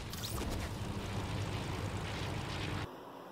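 An airplane flying in the snowy Fortnite game gives a loud, dense, continuous engine roar that holds steady and then cuts off abruptly near the end, leaving quieter background.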